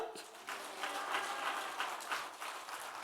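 A church congregation at an evening revival service claps together, a dense, steady wash of many hands with a loose rhythmic pulse throughout.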